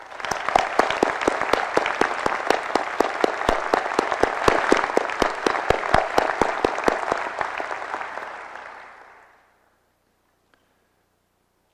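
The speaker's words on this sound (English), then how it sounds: "let us honor them with our applause" Sustained crowd applause at a Ball State University presidential inauguration, honoring former university presidents; dense, steady clapping fills a large hall for about nine seconds, then quickly fades to silence.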